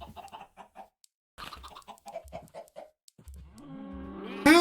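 Blocky Minecraft chickens clucking in a small farm flock: a string of short, evenly spaced clucks, a brief pause, then more clucks, ending with a louder, tonal electronic chime and rising sound effect.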